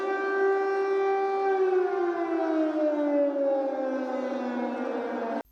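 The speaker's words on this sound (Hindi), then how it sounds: "सायरन की आवाज गूंजने लगी।" An air raid siren wails over Kyiv at dusk, a single sustained tone that slowly slides downward in pitch, loud and steady until it cuts off abruptly.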